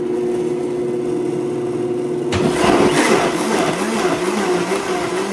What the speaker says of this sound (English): now we're going to blend it just for a few seconds